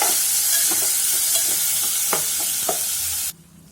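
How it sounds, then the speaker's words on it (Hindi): Rice sizzles and fries steadily in hot ghee with cumin seeds as it is stirred, a loud continuous crackling hiss with a few scraping clicks, cutting off near the end, no talking. "डाल करके इनको 1 से 2 मिनट भून देंगे।"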